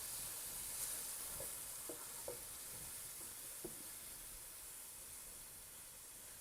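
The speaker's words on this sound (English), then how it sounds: "So now we're just worrying about browning the meat." Ground meat browning in a pan for a rigatoni meat sauce, a steady soft sizzle and hiss with a few faint scraping stirs, quiet and close with no talking.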